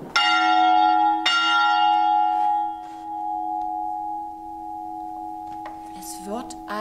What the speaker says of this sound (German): Ich muss richtig dolle die Glocke läuten.